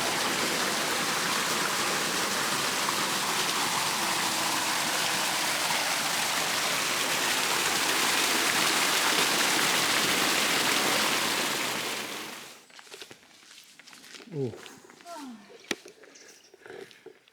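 Water rushes down a road like a river on a stretch of the Camino de Santiago, a loud steady roar for about twelve seconds before it cuts away to quieter outdoor noise and handling sounds.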